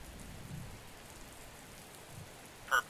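Quiet, steady rain hisses in the Gemini Rue point-and-click game, faint and continuous, with a brief sharp tone near the end.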